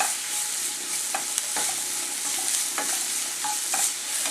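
Chopped ginger and onion fry in a pan for an egg kuruma, giving a steady, close sizzle broken by a few sharp scrapes of a spoon as the pieces are stirred, with no voices.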